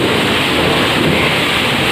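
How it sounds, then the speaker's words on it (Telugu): Steady heavy rain pours continuously during a thunderstorm, with a low rumble of thunder blended into the dense, loud wash of rainfall; no voices are heard. "ఓ ఉరుముతుంది మళ్ళీ."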